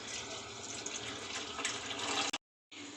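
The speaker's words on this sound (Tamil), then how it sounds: "அதில் 4 டம்ளர் தண்ணி சேர்க்குறேன்" Water pours in a steady, close splashing stream into a rice pot for ghee rice, briefly cuts off, then resumes for a moment; no one speaks.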